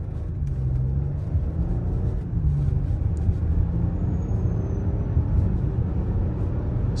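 A 2021 Audi Q8 S-Line with an 8-speed automatic accelerating briskly from inside the cabin, a steady low engine rumble and road noise rising in pitch through the gears with no talking.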